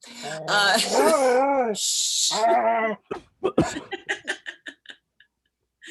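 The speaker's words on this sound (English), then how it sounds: "that would be my dog" A dog whines and whimpers in long, wavering cries, then gives a rapid series of short yips that fade out, close and fairly loud.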